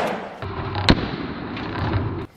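A single sharp gunshot from a Kel-Tec Sub 2000 rifle chambered in 5.56, fired outdoors at a range, loud and close, followed by a lingering rumble and a sudden cutoff.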